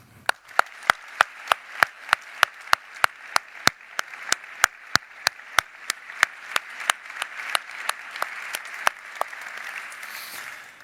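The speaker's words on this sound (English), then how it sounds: "I think this is worth an applause" Graduation ceremony audience applauding, with a steady run of loud, evenly spaced claps over a bed of scattered clapping that builds into a dense wash before fading near the end.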